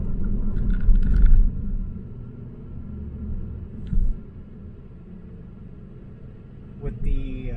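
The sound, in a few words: 2022 Kia Stinger GT2 driving on road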